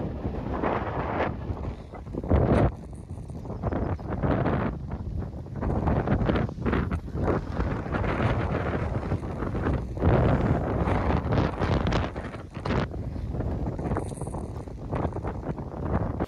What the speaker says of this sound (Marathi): खूप वारा वादळ चालू आहे